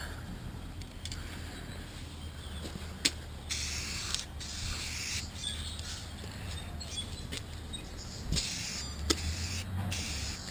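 Short hissing bursts of an aerosol spray can coat the grooves of a Crossfire model, several quiet sprays spaced apart over a faint background with small clicks and no talking.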